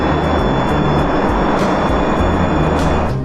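A UPS Airlines Boeing 747 cargo jet climbs with a loud, steady engine roar that stays close and constant throughout, with no voices.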